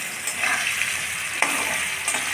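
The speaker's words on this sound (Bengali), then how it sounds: "আলুগুলোকে ভেজে নেব।" Potatoes fry in oil with salt and turmeric, giving a steady close sizzle. A couple of quick stirring scrapes punctuate it, and no one speaks.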